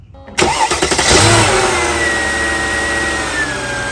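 A Mercedes ML55 AMG with a newly fitted serpentine belt cranks briefly, fires up loudly and close, flares in revs, then settles into a steady idle with a faint high belt whine.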